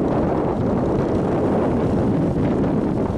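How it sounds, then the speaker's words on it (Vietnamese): Strong wind roars steadily around a small fishing boat at sea, a loud, constant broadband rush of gusting air and buffeting with no break across the whole stretch and no voices. "trời bên ngoài quá gió"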